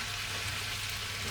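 Butter melting in a saucepan that still holds the residue of onions browned earlier, giving off a soft, steady sizzle with a faint crackle, close up and uninterrupted, no voices.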